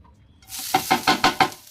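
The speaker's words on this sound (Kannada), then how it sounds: "ಇವಾಗ ಕಾಯಿನ ಫ್ರೈ ಮಾಡ್ಕೊಳ್ಳೋಣ ಬನ್ನಿ ಫ್ರೆಂಡ್ಸ್" Grated coconut frying in a pan for a dry chutney: a sizzle swells in, then five quick scraping knocks in a steady rhythm from a spoon stirring against the pan, close and clear.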